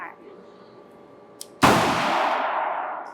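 A single loud gunshot cracks out at a shooting range during trigger-prep practice, a sharp blast followed by a long ringing decay, preceded by faint background noise and a small click.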